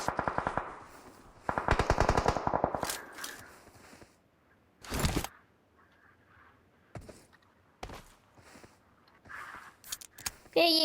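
Rapid automatic gunfire in a PUBG match comes in loud bursts, then single sharp shots scattered through quieter stretches, with a voice talking faintly underneath.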